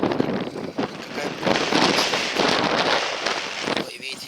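Wind gusting hard into the microphone during a February snowstorm on a ploughed field, a loud continuous roaring buffet with crackling, under someone speaking.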